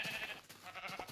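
A sheep bleating in a video game: a couple of short, wavering bleats, fairly faint and quick, with no talk over them.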